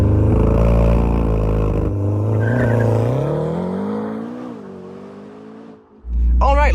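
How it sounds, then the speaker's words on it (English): A 2025 McLaren GTS supercar in track mode pulls away under launch control, its engine roaring loud and close with rising revs that ease off over several seconds before a brief dip and a fresh surge. "launch control in the new McLaren GTS for 2025"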